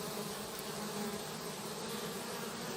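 Honey bees crowd the entrance of a hive, a dense continuous buzzing drone that holds steady and close throughout, with no voices.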